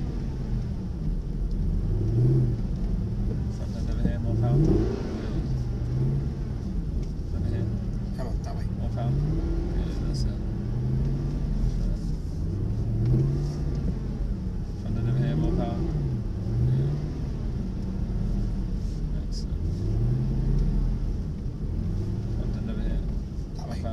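Mercedes SLS AMG engine droning through laps on a track, a low rumbling engine note with repeated rising revs and shifts heard from inside the cabin, under ongoing talk.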